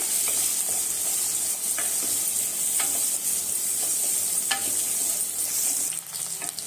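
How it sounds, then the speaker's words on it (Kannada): Onions and garlic fry in oil for an onion sambar, giving a steady, close sizzle broken by light stirring clicks, with no talking. "ಎಣ್ಣೆಯಲ್ಲೇ ಚೆನ್ನಾಗಿ ಫ್ರೈ ಆಗಬೇಕು"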